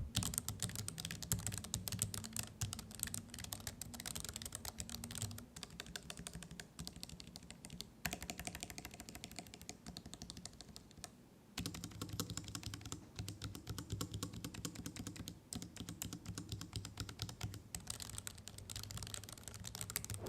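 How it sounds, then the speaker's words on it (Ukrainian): Soft, quiet typing on an ASUS ROG Falchion RX low-profile keyboard with optical switches, a steady patter of muted keystrokes with a brief pause midway, heard close and alone. "Клавіатура натискається м'яко і звук приємний і тихий."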